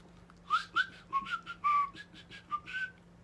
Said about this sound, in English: I'm going to whistle, which I do poorly.